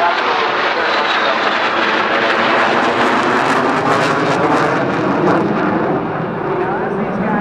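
Military jet aircraft roar past during a flyby at the 2008 NAS Oceana airshow, a loud, steady engine roar that swells slightly and fills the whole stretch while an announcer talks over it.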